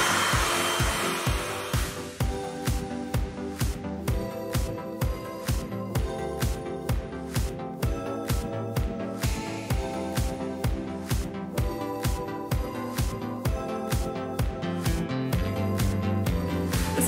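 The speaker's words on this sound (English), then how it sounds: "I'll just leave that where it is and start blow drying" A hair dryer blows relaxed hair on full speed and medium heat, a loud, steady close whoosh pulsing with a regular rhythm as it is moved about, with no talking.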